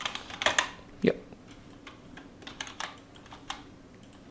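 Typing on a computer keyboard while working in Houdini: a few quick, close keystrokes and clacks in short irregular clusters, with a brief spoken word in between.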